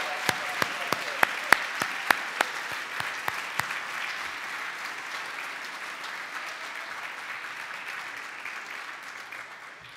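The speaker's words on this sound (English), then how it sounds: "Let's give him a big round of applause." An audience at a church Christmas concert claps loudly, with a few sharp individual claps near the start before the applause settles into a dense, sustained roar that slowly fades.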